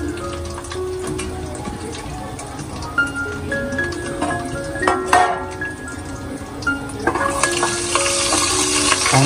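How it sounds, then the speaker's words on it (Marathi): Whole spices such as cinnamon, black cardamom and black pepper are sautéed with onion and tomato puree in a pan, making a close, continuous sizzle and wet frying crackle with scraping stirs. "चांगलं परतून घ्यायचं."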